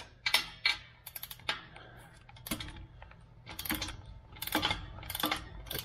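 Exhaust bolts loosened on a 2019 Ford F150 during a Corsa exhaust install, heard as close ratcheting clicks and metallic tool bursts coming in uneven runs and louder toward the end.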